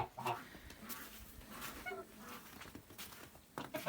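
Chickens cluck softly in a farmyard where geese are also kept, a few scattered, quiet calls rising over low background noise.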